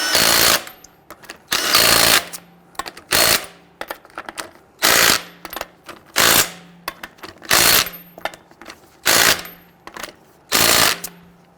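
An impact wrench snugs lug nuts on a 2007-2014 Cadillac Escalade wheel in repeated loud rattling bursts, about nine short hammering runs separated by brief pauses.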